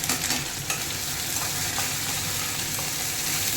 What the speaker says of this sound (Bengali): জোয়ান বাটা দেওয়ার আদাটা ভাজা ভাজা হয়ে গেল তারপরে দেখুন এক চামচ ধনে গুঁড়ো দিলাম